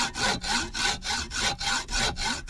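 A hacksaw cuts a small piece of soft tin clamped in a vise, with steady back-and-forth strokes in an even rhythm, about ten rasping passes, close and alone.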